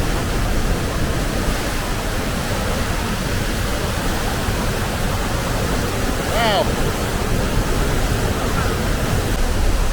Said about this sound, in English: We're now on the other side of the waterfall